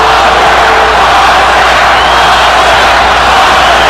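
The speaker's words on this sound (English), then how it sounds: "Crowd is chanting, Oscar, Oscar," A loud, dense arena crowd roars and chants for Oscar De La Hoya during his boxing fight against Bernard Hopkins, a continuous wall of voices filling the space.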